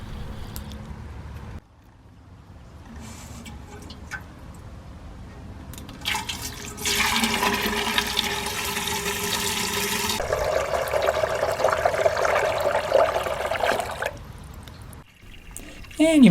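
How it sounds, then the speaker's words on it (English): Water gushes from a full Suncast RB50 rain barrel into a watering can, a loud steady rush that starts midway, rises in pitch as the can fills and then cuts off, with quieter handling noise before it. "It comes out of there with quite a bit of force when it's plumb full."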